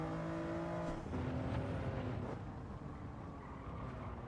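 A race car engine revs and shifts gears in Gran Turismo 7 during a time trial, the tone rising and dropping, moderately loud and steady.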